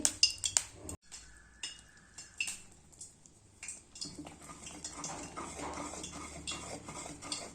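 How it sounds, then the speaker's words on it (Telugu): Hot oil is poured into Mysore pak sugar syrup while a spoon scrapes and clatters against the pan, with close metallic stirring strokes that become a steady, busy scraping in the second half. "వేడి చేసుకున్న ఆయిల్ అంతా పోసుకుంటూ కలుపుకుంటూ ఉడికించుకోవాలి"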